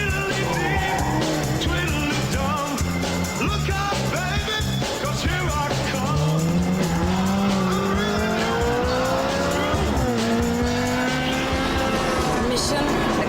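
A Ferrari 360 Challenge Stradale with stiffened suspension slides on track, its tires squealing in long rising tones over a loud, continuous engine roar.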